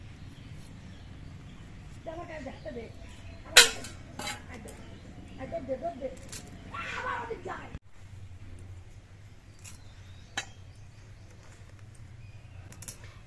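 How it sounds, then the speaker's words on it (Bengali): A knife cutting drumstick (moringa) stalks on a kitchen surface, heard as soft irregular taps and scrapes with one sharp clack, under a voice talking throughout. "প্রথমে আমি সজনের ডাটা কেটে নিচ্ছি"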